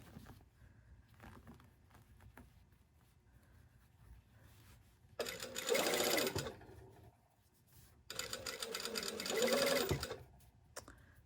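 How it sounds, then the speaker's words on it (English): A sewing machine stitches down one layer of a garment collar in two close bursts of steady whirring, separated by quieter handling sounds, with no talking. "So now we're just sewing the one layer of the collar down."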